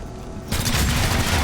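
Gunfire erupts in XCOM Chimera Squad, a sudden loud burst of rapid shots after a brief quiet moment, continuing as a dense rattling volley.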